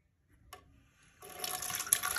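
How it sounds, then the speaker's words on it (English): Water pours from a tap into the removable water container of a Bosch Tassimo coffee maker, starting with a brief splash and then turning into a steady, loud rush of filling water close by. "and fill it up with water"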